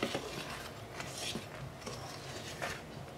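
Herbal remedy ingredients being mixed in a large pot, a quiet run of scraping, rubbing and clinking strokes, fairly close, with a faint utensil knock now and then.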